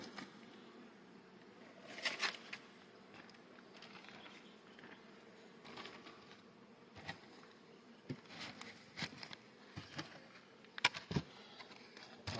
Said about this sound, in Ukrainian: Тут побільше бджоли бджолиночок в магазині